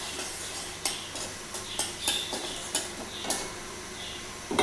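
Fish frying in a pan with fenugreek, a low, constant sizzle broken by several sharp clinks and scrapes of a utensil against the pan.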